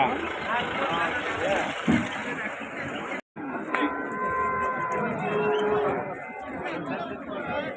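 Cattle at the Punganur H.F. Jersey cow market give drawn-out moos amid a crowd of people talking and bargaining nearby, the calls rising above the steady outdoor chatter.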